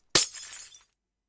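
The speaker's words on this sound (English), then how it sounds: "think I'll get rid of the glass panes," A single sharp crash of glass panes breaking in a video game, loud and sudden, with a brief tinkling tail that fades within about half a second.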